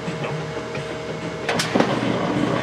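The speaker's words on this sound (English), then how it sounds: "when it starts up, the agitator jerks until it gets disengaged mechanically" A washing machine's agitator jerks and clunks as the wash starts up, giving a loud, steady mechanical rumble with a cluster of sharper knocks and rattles near the end, close and without talk.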